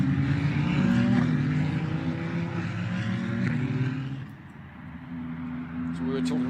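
Ferrari Challenge race cars, each with a 2992cc twin-turbo 120-degree V6, roll out of pit lane during qualifying at Laguna Seca. Their engines make a steady, shifting drone, with a commentator talking over it throughout.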